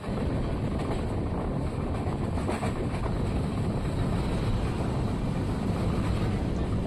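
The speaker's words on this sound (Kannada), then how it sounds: "ನಮ್ಮ ಟ್ರೈನ್ ಈಗ ಕೃಷ್ಣಾ ನದಿ ಬ್ರಿಡ್ಜ್ ಮೇಲೆ ಹೋಗ್ತಿದೆ" A passenger train crossing the Krishna river bridge between Solapur and Bangalore, heard from onboard as a loud, steady, dense rumble with wind roar filling the whole clip and no distinct clacks; no speech.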